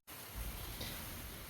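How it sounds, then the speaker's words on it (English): Rain falling outdoors makes a steady broadband hiss throughout, fairly faint and continuous with no speech. "so sorry for the extra noise, but the rain has begun."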